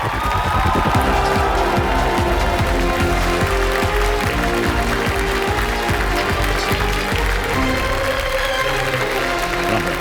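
Studio audience on the KBC stage applauding as a guest walks on, loud continuous clapping layered over a rhythmic musical backing with a faint cheer mixed in, filling the full ten seconds.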